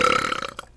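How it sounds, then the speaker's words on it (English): A single short, throaty human burp, close to the microphone and fairly loud, lasting under a second, heard on its own with no talking. "Link burps in her mouth."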